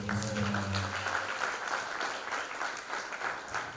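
Audience applause for performers at a museum talk on CHamoru dance in Guam: steady, dense clapping from a crowd fills the whole stretch, with a brief murmur of voices under the start.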